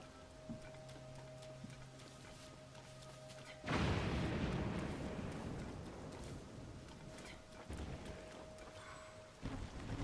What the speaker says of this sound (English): It's raining too, so we can't